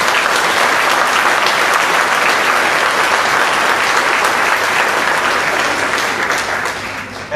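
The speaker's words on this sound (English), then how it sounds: "Can we give them a round of applause?" Dense, loud audience applause after a keynote speech, a continuous roar of clapping that holds steady and tapers slightly at the end.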